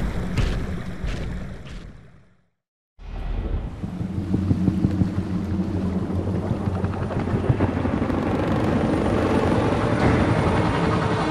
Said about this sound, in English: Reroute those choppers, Lieutenant.